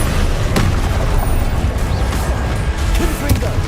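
An Expelliarmus spell is cast in the video game Hogwarts Legacy. It gives a loud, dense magical burst of booming rumble and crackle with a few sharp hits, all sustained throughout.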